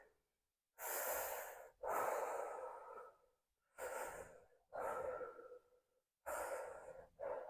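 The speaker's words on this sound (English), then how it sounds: "3 breaths through your mouth." Slow, deliberate mouth breaths during a hip and lower back stretching exercise: several distinct breathy inhales and exhales, close and clear, separated by short silences, with no talking.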